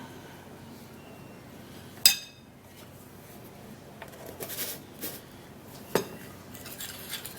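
A spoon stirs a thick charcoal and papaya leaf cream in a bowl. Quiet scrapes come with a few sharp clinks against the bowl, spaced a few seconds apart.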